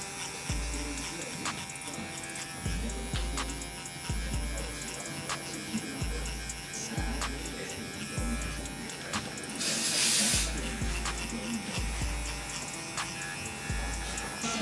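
Electric hair clippers with a one guard fitted and the blade lever fully open run in a steady close buzz for the whole stretch, with regular low thumps and a brief brighter rasp partway through.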